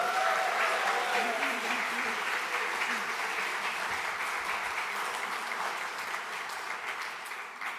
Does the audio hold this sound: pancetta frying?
no